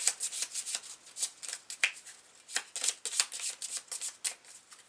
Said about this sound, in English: And do a quick shuffle.